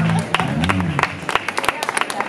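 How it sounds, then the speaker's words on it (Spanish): A concert audience in Salamanca applauding and cheering, dense clapping that swells under a voice speaking at the start, then scattered loud claps near by. "Un aplauso para la diversidad de este concierto."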